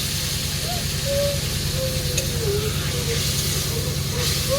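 Water poured into a hot pan of taro flower curry, producing a loud steady steaming hiss that continues throughout, close and unbroken, with a faint voice-like tone underneath.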